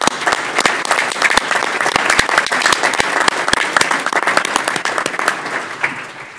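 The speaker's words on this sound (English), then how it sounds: "Let's give these folks a round of applause." Applause at a city council meeting, a modest group clapping with individual sharp hand claps clearly audible, irregular and close, sustained for several seconds before thinning toward the end.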